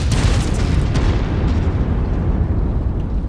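A loud, close explosion as a target is destroyed in a MechWarrior game, a heavy boom that bursts at once and then rolls on as a dense rumbling decay.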